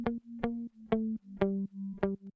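Layered electric guitar parts in an EDM production play together as a rhythmic, heavily processed stack of chopped chords, squashed and spread across both sides, pulsing in even repeated hits with sustained tone beneath.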